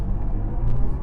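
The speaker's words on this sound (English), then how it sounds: "The only sound you really get is the special effects sound that is included by the car maker, which you hear inside" BMW i4 M50 electric AWD car producing its synthetic drive sound inside the cabin, a steady low hum with a faint rising tone, continuous and fairly loud throughout.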